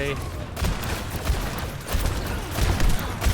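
Rapid video game gunfire crackles in a dense, sustained fusillade with heavy thuds underneath, while a player talks over the shooting.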